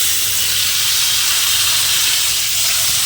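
Tomatoes fry in a hot pan for dal, giving a steady loud hiss and sizzle that stays constant and close, with no talk over it.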